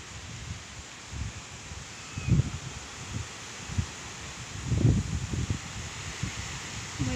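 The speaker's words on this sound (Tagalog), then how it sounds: "Lakas ng hangin." Gusty wind buffets and rustles in uneven bursts under dark clouds during rain, swelling strongly twice, with a soft continuous roar underneath.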